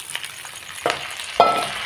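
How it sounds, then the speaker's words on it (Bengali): Rice with cinnamon, cloves, cardamom and bay leaf fries in ghee in a wok, a quiet sizzle broken by two or three brief scraping stirs, close by and with no talking. "এবং এই চালটা ঘিয়েতে কড়াইতে একটু নেড়ে নেব"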